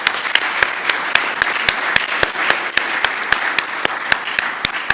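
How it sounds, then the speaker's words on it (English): An audience at the J. B. Danquah Memorial Lectures gives a round of applause after a lecture: steady, even clapping with crisp individual claps popping out close by, and no talking. "And let's give another round of applause."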